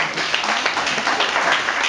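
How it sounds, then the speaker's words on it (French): A live audience at a Yopougon, Abidjan stage event claps and cheers warmly, a steady dense wash of applause lasting throughout, loud and close. "Applaudissements chaleureux à l'endroit de M. Philippe Bertin."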